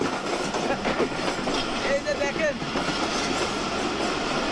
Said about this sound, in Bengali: সেই একই সাউন্ড একই শব্দ যে ট্রেন চলেছে